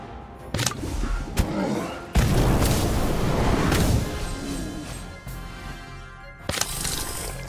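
An Incendio fire spell cast during a Harry Potter video game duel with Cassandra: heavy booming bursts and crashing impacts, with a big roaring surge midway and sharper thuds before and after.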